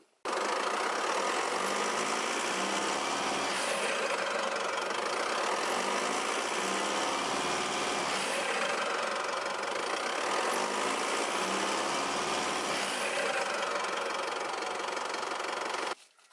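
An Isuzu Mu-X diesel engine is held under load in drive to build boost, giving a steady, loud, close droning roar with a rough knocking texture that holds evenly for about sixteen seconds before cutting off.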